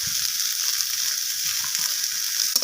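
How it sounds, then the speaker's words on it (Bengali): Spiced soybeans with turmeric, red chilli and cumin powder fry in hot oil in a pan, giving a steady close sizzle with soft scraping from stirring, and no voices. "তো সমস্ত কিছু মশলা আমি সয়াবিনের সাথে নাড়াচাড়া করে ভেজে নিচ্ছি এইভাবে"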